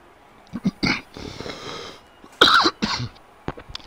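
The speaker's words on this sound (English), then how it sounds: "The cough caught me off guard actually." A few sharp, loud coughs burst out in quick succession, with brief quieter breathy sounds between them.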